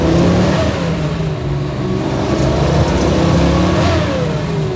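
A 1967 Ford Mustang restomod with a 347ci V8 rumbles loudly up close, its engine rising and falling through several revs in a deep, continuous, aggressive growl.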